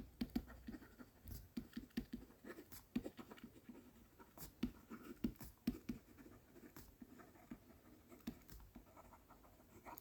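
A pen scratches and taps on paper while notes are jotted down for an accounting exam answer, producing soft, faint, irregular strokes and ticks at close range over a quiet background.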